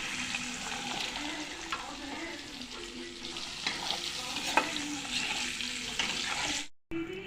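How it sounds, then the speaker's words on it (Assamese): Oil frying in a pan for an Assamese home meal as something is stirred, a steady close sizzle with light scraping, broken briefly by a short gap near the end. "ভাজি লওঁ ভালকৈ।"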